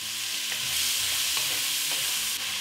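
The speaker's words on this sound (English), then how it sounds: "With all the beef done browning, add onions" Onions hitting a pan after a batch of beef chuck has been browned for pot roast, a loud, dense, continuous sizzle with stirring scrapes, close and steady, no talking.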